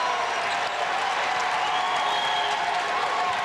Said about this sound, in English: the hometown crowd voices its approval